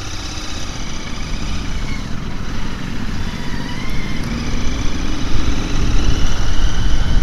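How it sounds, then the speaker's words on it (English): A 2023 Royal Enfield Continental GT650 motorcycle being ridden, its engine a steady, smooth low drone overlaid by rushing wind that swells slightly louder toward the end, with no talking. "I can't believe how smooth this engine is, especially on the gear change."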